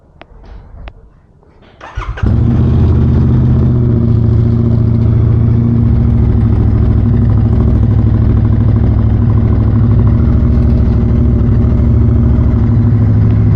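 A Royal Enfield Continental GT 650 motorcycle, fitted with a dB killer, cranks briefly and fires up. Its engine then settles into a loud, steady, close idle that runs unchanged to the end.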